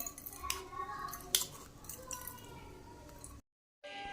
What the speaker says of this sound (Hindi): तो छन्नी की मदद से अब हम इसे छान लेंगे।